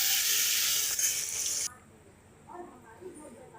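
Ridge gourd frying in hot oil with turmeric in a kadai, a loud, close hiss that cuts off abruptly partway through, leaving a quiet background with faint clatter.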